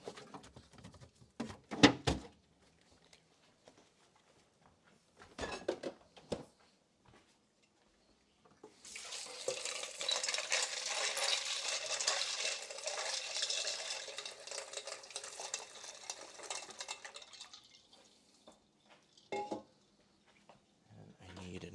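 A kitchen tap runs over shrimp in a strainer, a steady close splashing stream lasting about eight seconds, preceded by a few light clinks of dishes and utensils.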